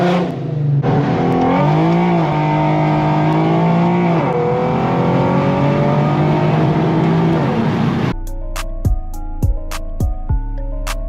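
A loud Infiniti Q50 engine revs hard for about eight seconds, pitch climbing and dipping, then drops off into a few sharp, spaced bursts over a low rumble.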